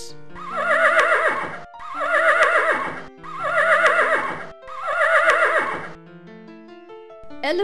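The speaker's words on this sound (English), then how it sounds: "Horse." A horse neighs four times in a steady series, each whinny loud, close and shrill with a shaking, quavering pitch, separated by short gaps.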